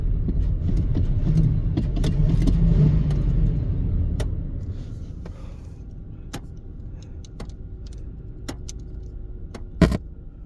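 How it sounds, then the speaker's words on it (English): A 1994 Lincoln Town Car Sayers and Scovill hearse idles with a steady low engine rumble, fading a little midway, while sharp clicks from under the dash tick intermittently and one louder knock lands near the end. "She's got a healthy sounding engine"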